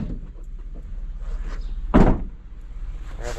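A van door slides and thumps shut with one loud, sharp impact after some quieter handling and rattling, recorded close by.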